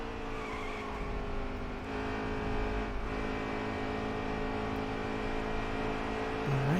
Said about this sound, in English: you could probably hear and see the car getting a little loose on the entry of turn 3